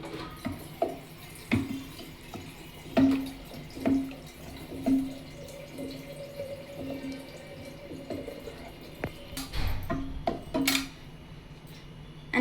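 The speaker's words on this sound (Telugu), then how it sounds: "తగినన్ని వాటర్ వేస్తున్నాను" Water is poured into cooked lentils in a pot for South Indian sambar: intermittent splashes and drips with light clinks of a pot or utensil, close by and with no talking.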